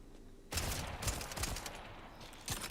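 Bursts of gunfire in the shooter Borderlands 4, a dense volley of rapid shots erupting after a quiet moment, tapering off and then one more sharp burst at the end.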